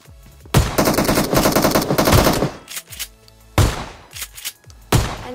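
Automatic gunfire from PUBG Mobile comes in a long, loud sustained burst followed by several shorter bursts and single shots, close and punchy, with no talking.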